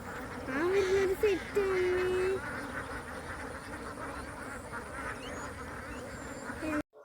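Dense, constant quacking from many ducks nearby, with a few louder drawn-out calls early on over the busy chorus.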